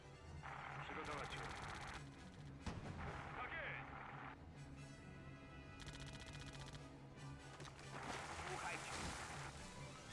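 Distant artillery and gunfire rumble in the World War II strategy game Theatre of War during a Poland campaign battle, with repeated muffled booms and crackling bursts layered under constant low battle noise and game music.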